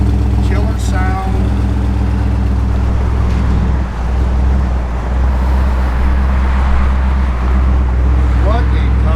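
A 1961 Chevrolet Impala Bubble Top's engine runs at a deep, steady idle close by, a continuous low rumble, with a few faint voices in the background.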